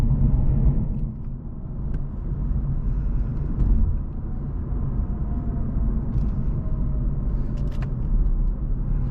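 A 2024 BMW M850i xDrive with a ZF eight-speed transmission accelerating, heard from the cabin as a steady, heavy low rumble of engine and exhaust that stays loud throughout with little variation.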